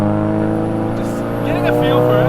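Big-turbo Nissan S15 Silvia with a 2.35-litre SR23 stroker engine revs loud and close, a steady droning note swelling and dipping with throttle, with voices talking over it.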